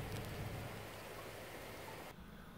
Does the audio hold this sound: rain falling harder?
yes